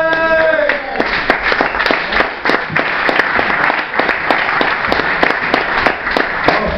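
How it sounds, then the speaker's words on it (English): A comedy club audience gives a comedian dense, steady applause that runs unbroken the whole time. The crowd sounds close and loud, with a brief announcing voice at the start. "So please put your hands together for the very funny Mike Santo."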